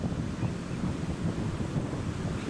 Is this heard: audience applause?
no